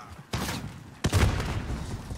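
A grenade goes off in Modern Warfare: two sharp, close blasts about a second apart, each trailing into a short rumbling decay.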